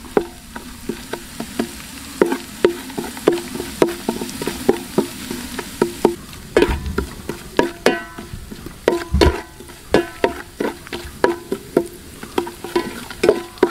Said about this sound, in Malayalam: ഇതിപ്പോൾ രണ്ടും ഒരുമിച്ചിട്ട് നമുക്ക് വഴറ്റിയെടുക്കാം